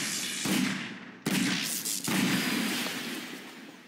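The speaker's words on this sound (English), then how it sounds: "It just exploded out of the universe." Explosion blasts in the Garry's Mod video game, three loud broadband bursts at intervals, each cutting in sharply and followed by a sustained rumbling roar, with no talk.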